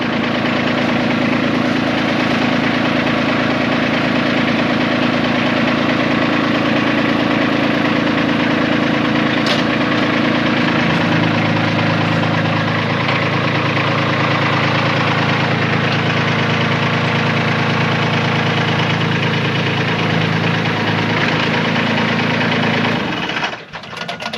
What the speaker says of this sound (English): just pull the tractor forward a little bit